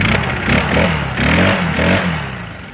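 A gas leaf blower, one of a Stihl BR800 or Echo EBZ8560/EBZ8550 set, runs cold on a chilly morning right after a first start, its engine rattling unevenly with rising and falling revs, loud and close.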